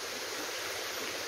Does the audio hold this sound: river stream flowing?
yes